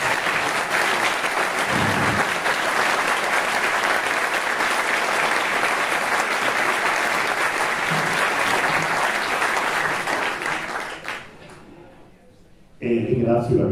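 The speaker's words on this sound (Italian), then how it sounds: "lo accoglierei con un ulteriore applauso" A large audience at an Italian talk event in Udine gives loud, dense applause to welcome a guest speaker, sustained for about eleven seconds before it fades out and a voice resumes.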